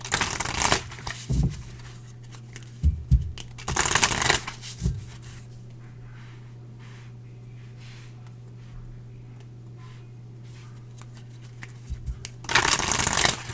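A deck of tarot cards being shuffled by hand in a quiet room, with bursts of riffling and crisp card slaps at the start, middle and end and softer handling and rustling between them, over a faint steady hum.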